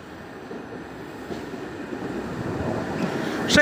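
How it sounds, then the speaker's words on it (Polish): Super City Pendolino Košičan train, running about 20 minutes late, pulling into a station: a steady low rumble that slowly builds and grows louder, ending with a brief sharp high squeal. "Wjeżdża opóźniony około 20 minut pociąg Super City Pendolino Kosiczan"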